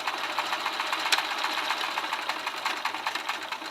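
A sewing machine stitches two fabric tubes of an infinity scarf together, giving a close, steady, continuous mechanical whir with a fine rapid rhythm and no pauses.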